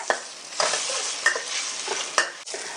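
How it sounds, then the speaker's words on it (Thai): Chili and garlic stir-fried in vegetable oil in a wok, with a soft continuous sizzle broken by several rhythmic scraping strokes of a spatula, close and fairly quiet. "ผัดพริกกระเทียมให้หอมค่ะ"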